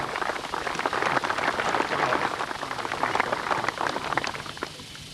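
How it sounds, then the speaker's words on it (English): Audience applause at the 1992 Victorian Open golf tournament for champion Ian Stanley, a steady, dense patter of many hands clapping outdoors at moderate distance, sustained throughout without talk. "A round of applause once again for the Vic Open champion, Ian Stanley"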